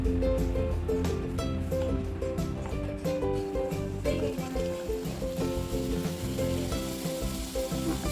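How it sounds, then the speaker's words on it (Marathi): Chorafali snacks crackle and sizzle steadily in hot oil, a dense continuous frying hiss close up with faint background music and no talking. "आता आपलं तेल तापलेलं आहे, याच्यात आपण ह्या चोरापल्ली आपण टाकूया आता याच्यात"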